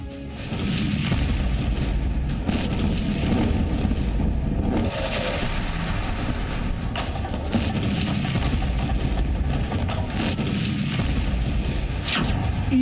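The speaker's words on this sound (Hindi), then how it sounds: "घातक मिसाइलों से ईरान ने इजराइल में बर्बादी का बारूद बरसा दिया।" Iranian missile strikes hitting Tel Aviv, Israel, with a dense, continuous rumble of booms and blasts, sharp cracks rising out of the roar near the middle and end.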